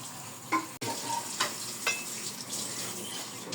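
Chicken frying in a pan to render chicken oil, a constant close sizzle with a few sharp utensil clicks and stirring scrapes over the top, no voices.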